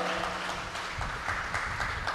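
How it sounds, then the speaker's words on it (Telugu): Church congregation clapping loudly in praise, a dense continuous wash of applause without pause under a faint voice. "గట్టిగా చప్పట్లు కొట్టి గట్టిగా దేవుని మహిమపరుద్దాం"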